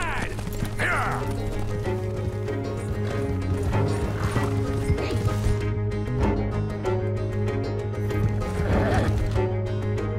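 Horses gallop in the video game Red Dead Redemption 2, with rapid rhythmic hoofbeats and repeated neighs and whinnies over a dense, continuous, loud mix, alongside game music and faint voices.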